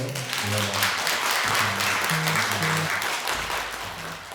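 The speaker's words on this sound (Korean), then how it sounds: "박수 한번 더 칠까요?" A church congregation applauding during a Sunday service, steady mid-level clapping from many people that fades toward the end, with a faint organ or keyboard tone underneath.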